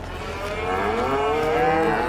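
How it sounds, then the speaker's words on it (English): Cows in Farming Simulator 22 let out a long, drawn-out moo, loud and close, rising and wavering over a low background hum with no talking over it. "Okay, come over here to the cows."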